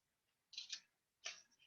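Scissors snip through orange paper while cutting out an angular maple leaf shape for an autumn garland craft, a few quick, crisp, close snips separated by short pauses.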